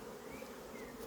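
Honeybees buzz at an apiary hive, a soft continuous hum with a faint rising drone passing through.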